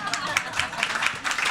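An audience at an international symposium claps for a panel in a short burst of scattered, moderately close applause with no voices.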